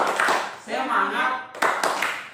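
Audience clapping during a stunting prevention and handling training session, rhythmic claps in bursts mixed with group voices chanting, fairly loud and close.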